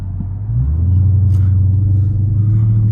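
Dodge Charger Widebody Hellcat, a 717 hp car, droning with a deep, steady engine rumble while cruising, the tone lifting slightly early on and then holding loud and even, with no talking.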